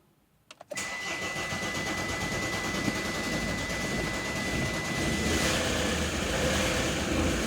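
An Opel Frontera diesel engine, recently worked on, cranks briefly after glow-plug preheat and catches, settling into a steady, loud clattering idle close by.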